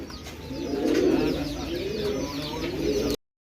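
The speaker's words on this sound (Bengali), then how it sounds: "খুব সুন্দর দেখার মতো একটা কবুতর" Pigeon cooing in repeated soft, rolling waves from a bird kept for sale, close and steady, with a faint higher chirp or two over it and a brief cut to silence near the end.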